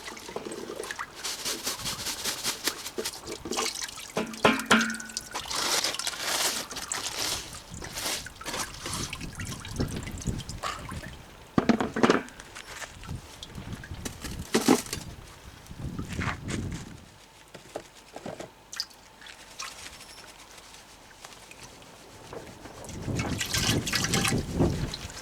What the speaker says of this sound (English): Now I'll just wash some of these finer particles in this middle sieve down into the bottom sieve.